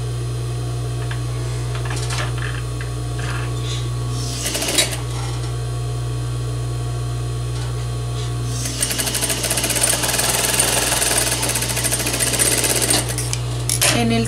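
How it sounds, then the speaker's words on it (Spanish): A sewing machine stitches a seam in textile for garment sewing, a steady electric hum under light rattling that swells into a fast, dense mechanical chatter near the end, close and with no talking. "Luego vamos a hacer el mismo tipo de costuras pero en tul."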